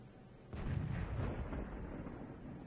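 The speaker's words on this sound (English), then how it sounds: "Now he's being careful to zero in the aim, and he's fired." An M41 HMC tank gun fires a HEAT round in a video game battle, a single sudden boom that rolls into a long, fading low rumble.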